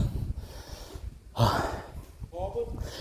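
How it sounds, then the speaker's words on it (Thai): Heavy, ragged panting from a hiker who has just climbed a hill, with several loud close breaths and gasps mixed with speech. "เดี๋ยวพักหอบครับ"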